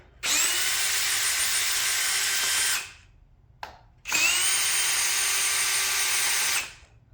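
DeWalt power drill running in two long, steady whining bursts of about two and a half seconds each, loud and close, with a brief tap between them.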